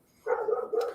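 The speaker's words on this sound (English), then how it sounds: "Y'all can probably hear my dogs barking in the background." Dogs barking indoors in the background, a sharp bark followed by a sustained, tonal yelping bark run, fairly quiet and alone without talk.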